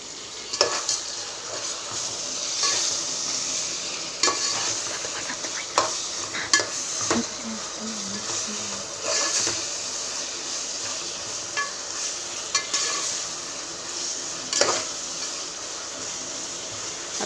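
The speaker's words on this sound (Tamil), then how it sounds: "தக்காளி வதங்கட்டும்" Tomatoes sautéing with coarse salt in a pan, a steady soft sizzle broken by repeated sharp scrapes and clinks of a spoon stirring against the metal, with no one talking.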